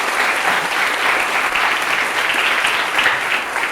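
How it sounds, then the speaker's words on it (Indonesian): A seminar audience claps loudly and continuously, dense close applause filling the whole stretch without letup. "Tepuk tangan paling meriah untuk kita semua."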